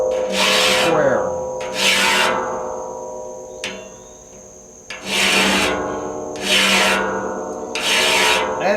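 A hand file rasps across saw teeth in loud, close, rhythmic strokes, with about five long grinding passes separated by short pauses and a faint tap or two between them.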